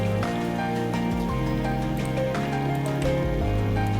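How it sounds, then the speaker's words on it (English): Steady rainfall patters in a video game, a soft continuous wash sitting beneath louder looping game music with sustained tones that dominate throughout. "Oh, it's actually raining."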